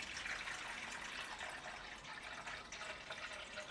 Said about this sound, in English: So let's pour in around 4 cups.